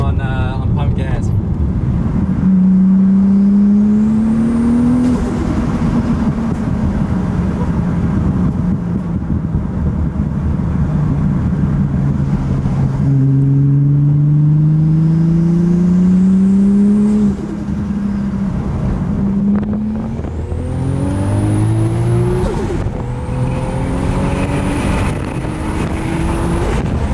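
A powerful turbocharged 2JZ engine in a 700-horsepower swapped Lexus Altezza drones loudly while driving, rising and falling in pitch through several gear changes and revs, with voices talking over it.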